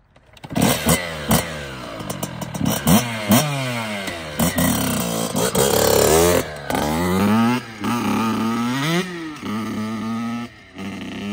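Rebuilt Kawasaki KX dirt bike fires up and revs hard and close, with sharp repeated throttle blips and rising, falling engine pitch, then short pauses between bursts.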